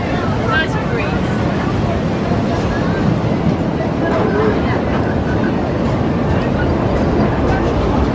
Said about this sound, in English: Enjoying the train ride?